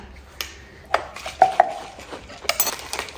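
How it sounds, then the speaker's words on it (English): Protein mix shaken in a plastic shaker bottle gives scattered rattles and clinks at close range. Several sharper knocks come in quick succession amid light kitchen handling noise. "I just use a shaker for this"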